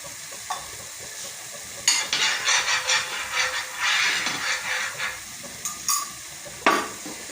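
Paneer fries in a little oil in a pan, with bursts of crackling sizzle and intermittent stirring clatter, fairly close and with no talk.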